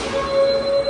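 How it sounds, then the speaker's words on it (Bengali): An Athens metro train pulls into the station, its wheels letting out a sustained high squeal over the low rumble of the rail car, close and fairly loud. "ট্রেন আসলো।"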